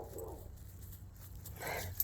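A dog whimpers and yips faintly in two short bursts, at a distance in a quiet indoor room.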